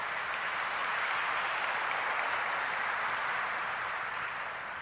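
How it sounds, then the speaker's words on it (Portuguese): A church congregation applauding after a homily, a soft, even wash of many hands clapping together, heard from a distance and holding steady for several seconds. "Então, tá bem, um aplauso aí."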